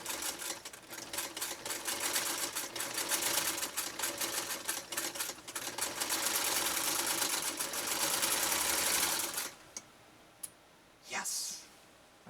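Vintage Singer 192K sewing machine stitching fabric, a steady fast mechanical chatter of needle strokes running for about nine seconds, then stopping, followed by a few faint handling sounds.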